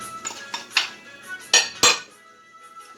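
Utensil clinks and scrapes against a mixing bowl as pumpkin, grated coconut and cornmeal are stirred together for Trinidadian paime, a few sharp knocks standing out among softer clatter, close and without talk.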